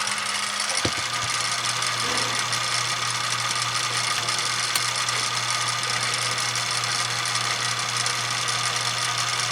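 A film projector running in fast forward, a steady close mechanical whir and hum with a fast rattling drive and a few clicks near the start.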